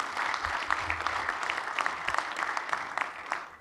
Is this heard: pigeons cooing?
no